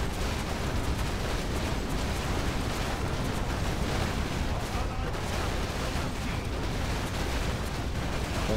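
A cannon tower in the Arkguil TD video game keeps firing, with dense, continuous booming blasts and crackle packed together at high volume throughout.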